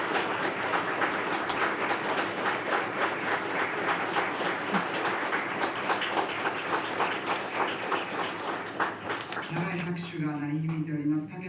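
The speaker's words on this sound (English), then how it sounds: "could we have a big round of applause for Ambassador Paquet?" Sustained audience applause after an EU ambassador's talk on decarbonization strategy and Japan-EU cooperation, a dense clatter of many hands that runs for about ten seconds before fading as a voice begins speaking.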